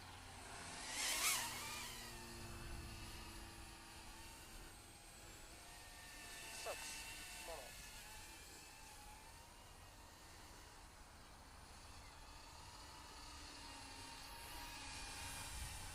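An Eachine Tyro79 FPV drone on a test flight whines steadily at a distance, a faint continuous motor drone rising slightly near the start and end.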